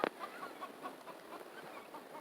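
A chicken perched in a cat tree indoors gives a soft, quiet series of rhythmic clucks, close but faint, after a brief sharp knock at the start.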